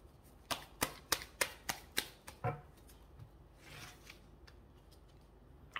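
Tarot cards are drawn and handled in a quick run of about eight crisp, evenly spaced snaps, followed by quieter papery rustling and a final soft click, close to the microphone.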